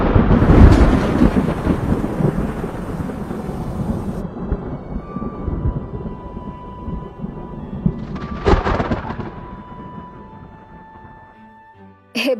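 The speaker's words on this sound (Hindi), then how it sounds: "तभी बहुत तेज बिजली कड़कने की आवाज आती है।" Loud, booming thunder rolls over steady heavy rain, close and powerful at first, fading into a long rumble, then a second sharp crack follows before the storm dies away.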